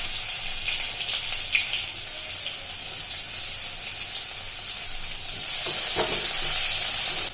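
Chopped onion sizzles in hot oil for a tempering with cumin, crushed garlic and asafoetida, made for a snake gourd curry. The sizzle is continuous and close, with stirring scrapes, and it grows louder and more vigorous near the end.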